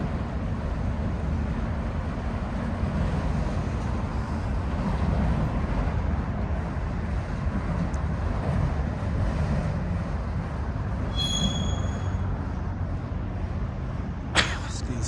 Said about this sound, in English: This is the third Union Pacific train I just recorded today.